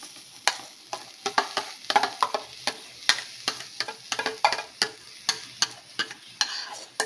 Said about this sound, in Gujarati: આ રીતે બધી જ પ્યુરી એડ કરી દઈશું અને સરસ મિક્સ કરી લેવાની છે